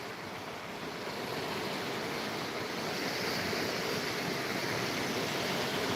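Broad, steady rushing of the Sutlej river flowing, a continuous surging wash that swells slightly louder midway, with wind buffeting the microphone and no voices.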